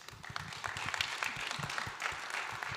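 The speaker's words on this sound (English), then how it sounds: "give a round of applause for our panelists." An audience applauds the panelists at the close of a home inspection industry panel event, a short burst of scattered clapping with some voices mixed in.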